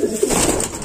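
A Rampuri pigeon pair, male and female, gives one short, close, throaty coo that stands alone without talk.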